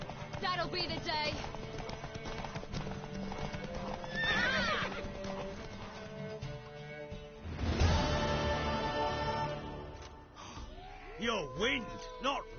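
A horse whinnies and clip-clops in The Witcher 3, with galloping hoofbeats and neighs sounding through game music and characters talking, and a loud whinny rising near the end.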